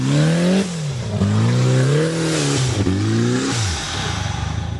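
A 4x4 on a wet off-road obstacle course at a national 4x4 challenge, its engine revving hard and rising and falling in pitch as it pulls away on wet tires, loud and close with no talk.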